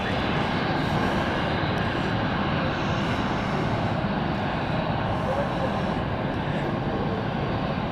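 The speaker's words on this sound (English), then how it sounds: "That's another A380" An Emirates Airbus A380 at London City gives a steady, loud, broadband jet roar that holds evenly for several seconds with no break.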